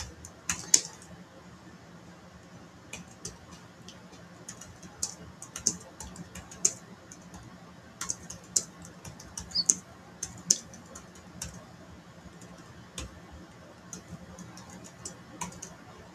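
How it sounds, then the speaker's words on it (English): Computer keyboard typing during a live drawing stream: sparse, irregular clicks and short bursts of keystrokes, close and fairly quiet, over a faint steady hum. "Let me type a message."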